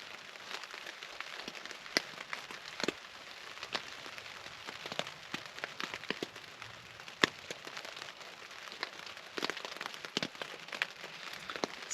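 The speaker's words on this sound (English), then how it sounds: "Can you hear the rain?" Rain patters on a tent at a camp during a solo kayak trip in wintry weather, with scattered sharp drops tapping close by over a soft, quiet wash.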